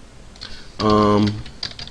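Keys clatter on a computer keyboard while Java code is entered, a brief cluster of quick taps with a steady tone underneath, fairly close and moderately loud.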